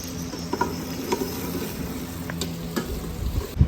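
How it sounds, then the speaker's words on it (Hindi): Okra frying in a pan with green chilies, a close, steady sizzle broken by a few scraping stirs and light taps, with a faint insect-like whine in the background. "भिंडी ऐड कर दिया, इनको मिक्स कर दिया है ऐसे"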